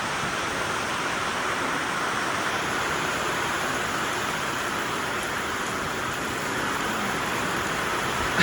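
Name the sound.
rain falling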